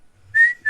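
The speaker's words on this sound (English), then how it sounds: "I can't whistle while I'm smiling." A person whistles briefly: a short, clear, sustained note that breaks off and resumes, close and fairly loud, with no talk over it.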